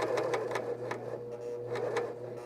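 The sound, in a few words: sewing machine sewing elastic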